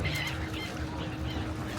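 Ducks calling by the river, a few short honking quacks close by over steady outdoor background noise.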